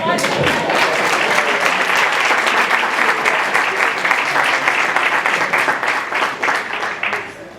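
A room full of people applauds steadily for several seconds, a dense wash of clapping that fades out toward the end.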